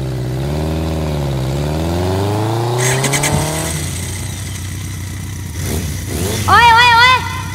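An overloaded vehicle heading to Durga puja passes with a steady engine drone that rises and sharpens, then fades, while people talk and sing over it.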